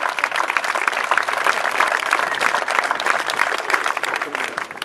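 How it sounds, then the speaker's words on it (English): Audience round of applause at a groundbreaking ceremony for a new county high school: dense, steady clapping from a sizable crowd, loud and sustained throughout without a break. "Give them a round of applause."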